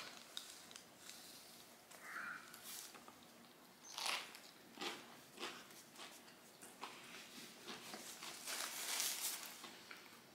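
Crispy KFC chicken sandwich with spicy sauce and pickles being bitten and chewed close up, several quiet crunchy bites and rustles spaced across the stretch, with no talking.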